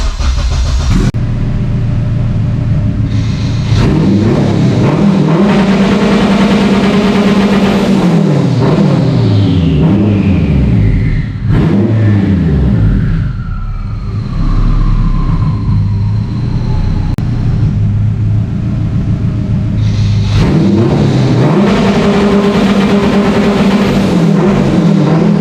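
A turbocharged AWD Honda Civic engine, ignition timing retarded 10 degrees to build boost, revs loudly and repeatedly, rising and falling in pitch, with a thin turbo whistle sweeping down between pulls.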